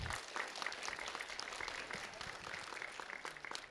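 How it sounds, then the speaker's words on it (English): Crowd at a community grand opening clapping in a brief, fairly quiet round of applause, dense and even from start to finish with no talking over it. "let's give them a round of applause anyway"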